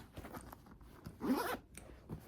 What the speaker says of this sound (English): The back side here has a zipper pocket.